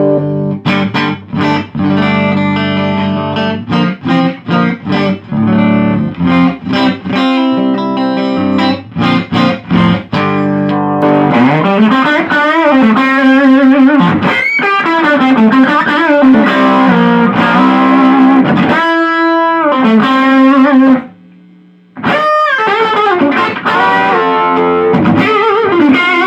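An electric guitar plays through a Fender Hot Rod Deville amp with its mid boost engaged, a loud, distorted tone close up, moving from choppy chords into sustained bending lead notes with one brief pause.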